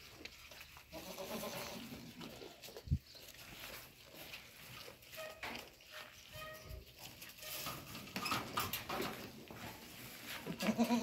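Young Saanen and Maltese goat kids bleating on a farm, several close, wavering cries scattered irregularly among shuffling hooves and background noise, growing louder and busier toward the end.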